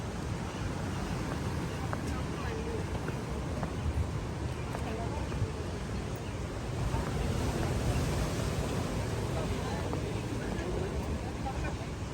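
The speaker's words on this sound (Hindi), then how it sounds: "इतनी बड़ी बड़ी लहरें उठ रही है, देख रहे हो।" Big ocean waves at Aguada, Goa, produce a steady, loud roar of surf, mixed with wind buffeting the microphone throughout, with no distinct breaks.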